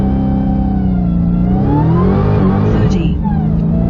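A 2021 Dodge Charger Hellcat Widebody Redeye in track mode launches hard from idle on TOYO R888R tires, its loud supercharged engine note rising steadily through the revs and then shifting, with voices talking over it.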